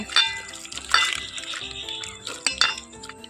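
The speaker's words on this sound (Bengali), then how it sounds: "এখন আমি এখানে জল দিয়ে এটাকে মেখে নেব" Bael fruit pulp being kneaded by hand with added water, giving wet squelching and sloshing with light clinks against the bowl, close and fairly loud, with no talking.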